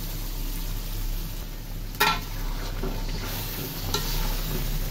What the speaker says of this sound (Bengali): কষানো মশলাতে এই যে ভেজে রাখা মাংসটা আমি দিয়ে দিচ্ছি।